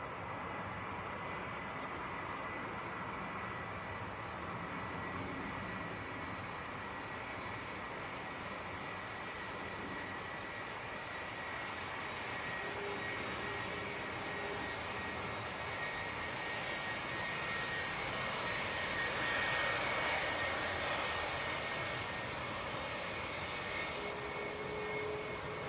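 Boeing 757 with Rolls-Royce RB211 engines taking off at Manchester Airport: a steady, broad jet roar that swells to its loudest near the end, with no talk over it.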